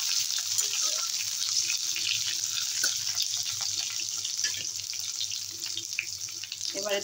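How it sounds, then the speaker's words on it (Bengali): Four or five small green chillies fry in oil, producing a continuous even hiss with faint crackles that holds steady and close for the whole stretch. "কাঁচা লঙ্কাটা একটু তেলে ভেজে দিলে ভালো হবে।"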